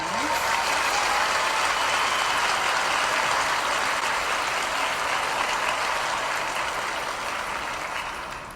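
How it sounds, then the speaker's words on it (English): Recreated audience applause used as a sound effect, a steady wash of many hands clapping that holds evenly throughout and tapers slightly at the end, with no voices. "Here we can give the client some praise by, recreating an applause by the audience."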